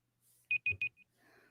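A timer alarm beeps three times in quick succession with a shorter fourth beep, sharp and clear against a quiet room, followed by faint murmuring.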